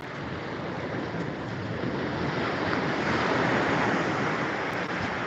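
Ocean waves washing up on a beach in January, a continuous loud rushing surf mixed with wind noise on the microphone and no voices.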